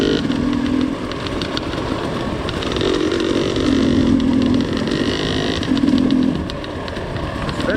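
A trail motorcycle engine drones loudly and continuously while riding, with the pitch rising and falling gently as the throttle changes, up close and without speech.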